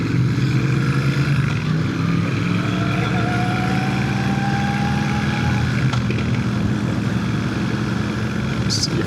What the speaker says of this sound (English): we're pushing this bike to its engine limits out here on the highway